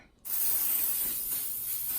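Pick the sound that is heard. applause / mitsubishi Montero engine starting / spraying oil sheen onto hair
spraying oil sheen onto hair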